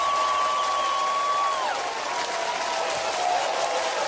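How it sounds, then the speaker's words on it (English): Steady applause from a crowd fills the whole stretch, dense and even, with a faint tonal whistle-like line drifting over it early on. "I'm not worthy of the applause."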